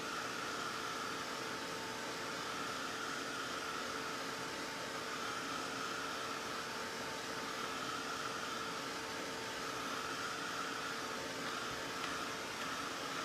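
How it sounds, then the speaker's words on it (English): A heat tool blows hot air over stamping foam, giving a continuous, fairly quiet airy hiss with a faint hum that holds level from start to finish. "hopefully you can hear me over the sound of my heat tool"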